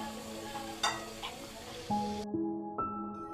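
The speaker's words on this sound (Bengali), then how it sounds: "উল্টিয়ে ভেজে নেওয়া পর্যন্ত অপেক্ষা করব" Palm and coconut pitha fry in oil with a steady bubbling hiss and a couple of soft knocks, while music with held tones plays over it and takes over toward the end.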